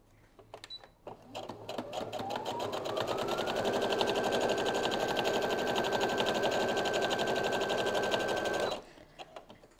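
A sewing machine runs a steady, continuous stitch along a quilt seam for several seconds, rising to a sustained hum with a rapid mechanical clatter before stopping abruptly near the end.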